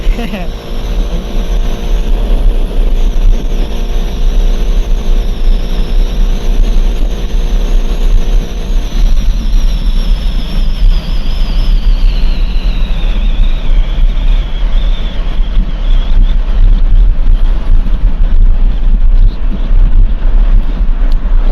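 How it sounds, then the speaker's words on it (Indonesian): Motorcycle engine and exhaust drone with steady wind rush, heard from inside an MLA Crypto full-face helmet, a continuous loud roar that holds a steady pitch before shifting and climbing slightly midway. "Apalagi kalau pakai knalpot yang besar ya, bisa dinikmati lagi suaranya."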